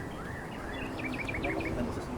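Birds chirp and trill in a natural outdoor setting in Tanay, Rizal, the quick rising and falling calls faint and somewhat distant over a low background rumble.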